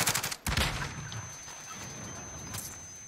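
Rapid gunfire in the video game Warzone, a loud burst of automatic shots at the start, then a lower sustained rattle of distant shooting with another brief flare near the end, no voices.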